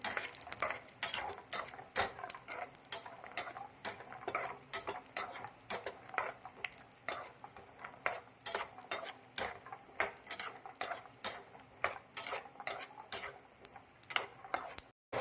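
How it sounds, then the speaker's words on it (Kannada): Dry fruits fried in a pan for coconut laddus, stirred with a utensil that ticks and clinks against the metal in a quick, steady rhythm, fairly quiet and continuing throughout. "ಎಲ್ಲ ಡ್ರೈ ಫ್ರೂಟ್ಸು ಹಾಕ್ತಾ ಇದೆ ಫ್ರೈ ಮಾಡ್ತೀನಿ"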